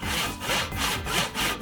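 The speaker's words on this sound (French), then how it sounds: "Des scies tranchantes." A sharp hand saw cuts through wood in steady back-and-forth strokes, about four loud rasping passes close up, with no voices.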